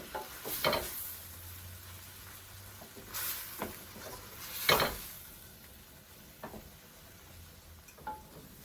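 Creamy chicken pasta with wilted spinach, tomatoes, salt and crushed red pepper being stirred in a pan, with a low sizzle and a few scattered scrapes and clinks of the utensil, fairly quiet and without talking.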